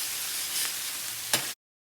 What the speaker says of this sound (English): Now we're deglazing the pan with some tomato.